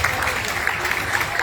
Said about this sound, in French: Alors applaudissez Khadija,